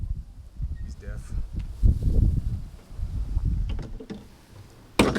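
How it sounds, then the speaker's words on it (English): Strong wind blowing in gusts up on a high spot, a deep buffeting roar against the microphone that rises and falls, with someone talking over it. "It's a really windy day today. It's really windy up here."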